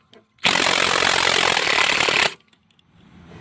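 A power tool with a T40 Torx bit spins a Teflon locking nut loose under a 2011-2016 Chevy Cruze during transmission removal: one loud, harsh, steady burst of about two seconds, close up, then an abrupt stop.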